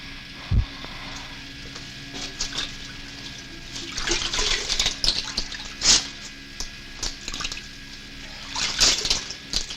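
Water runs and drips, probably from a tap, in an old horror film setting; the splashing is moderate, with irregular louder bursts and drips over a steady background, and there is no talk.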